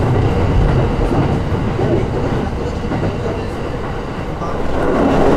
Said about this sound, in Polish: No to wsiadłam do pociągu.